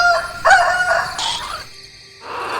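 A cartoon rooster crows loudly and close in an Indian folk-tale animation, giving a couple of strained, broken cock-a-doodle calls that trail off, with no talk over them.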